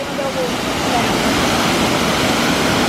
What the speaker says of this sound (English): I know the waterfall's bare loud